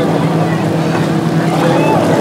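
A motorboat picks up speed on the sea off Dandi Beach in Malvan, its engine droning loud and steady under rushing wind and water noise, with voices faintly mixed in.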